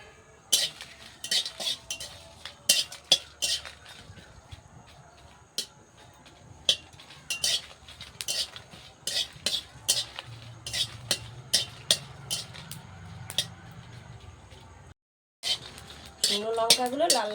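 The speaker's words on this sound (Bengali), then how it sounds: "এবার শুকনো লঙ্কা ভেজে নেব।" Dried red chillies fried in a pan for a kul (jujube) pickle, a metal spatula stirring and clinking against the pan in quick, irregular taps, with a brief silent gap near the end.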